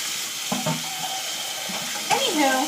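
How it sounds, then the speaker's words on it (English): Water running from a kitchen tap while bowls are washed, a steady hissing wash with occasional clinks of the bowls, moderately loud and close, and a voice speaking briefly toward the end. "And now I'm just cleaning up the bowls"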